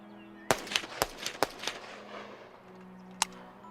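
Kalashnikov AK-47 rifle fire: a quick run of five sharp, distant cracks in uneven rhythm, then a pause and one more shot, over a low background hum.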